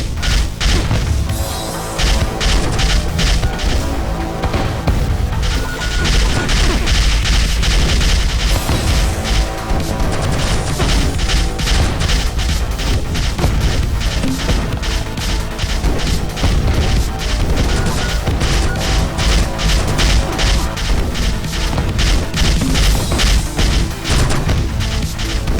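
Grenade launcher explosions in the robot shooter Neurovoider crash and boom almost nonstop, a dense, loud barrage of blasts layered over busy game sound.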